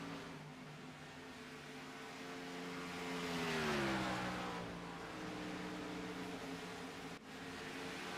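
Race cars in a sim racing game at Homestead, a pack of engines droning steadily with a rising then falling pitch sweep as cars pass, loud and continuous with no talk.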